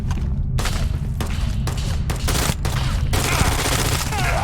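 Gunfire in the video game Starfield, with loud, close, rapid bursts of shots separated by brief gaps over a heavy booming low rumble that runs throughout.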